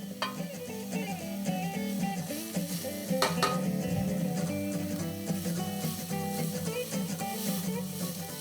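Sliced yellow and green peppers sizzle and get stirred in a pan over medium heat for pasta fagioli, with steady frying hiss, scraping utensil strokes and light clinks against the pan, no voices.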